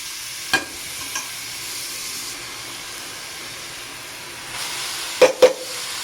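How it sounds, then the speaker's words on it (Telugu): Grated pumpkin for halwa fries softly in a pan with a low steady hiss, and a few scraping stirs of a spoon stand out, including two close together near the end. "గుమ్మడికాయ తురుము ఇలా బాగా కలుపుకోవాలి చాలా సేపు వరకు పచ్చివాసన పోయేలా వేపుకోవాలి"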